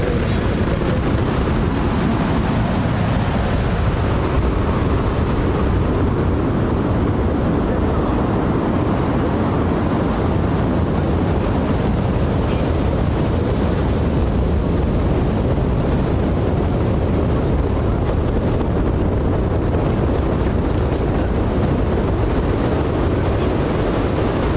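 A SpaceX Starship rocket lifts off with a continuous, thunderous roar that fills the whole span, rumbling and crackling with heavy wind buffeting, steady and loud throughout.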